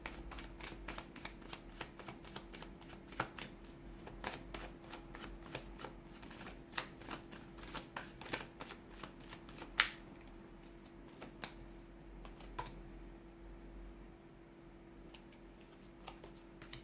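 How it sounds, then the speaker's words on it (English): Tarot cards shuffled by hand, heard as a long run of quick, crisp riffling flicks at close range, quiet overall and thinning out toward the end, with no talk. "let's go ahead, give the cards a shuffle"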